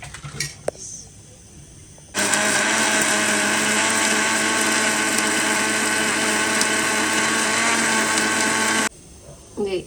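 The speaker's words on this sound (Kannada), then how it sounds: "ಒಂಜಿ ಟೊಮೆಟೊ ಪಾಡ್ದು ಗ್ರೈಂಡ್ ಮಾಡ್ತ ನಾನು" A mixer grinder grinding a tomato, starting abruptly and running as one loud, steady whirring roar for about seven seconds before cutting off, with brief quieter handling sounds before and after it.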